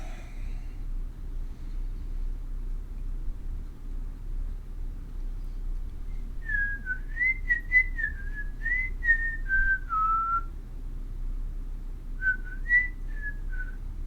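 A person whistles a short wavering tune in two phrases over a steady low background hum, the first phrase longer and the second brief, with no one talking.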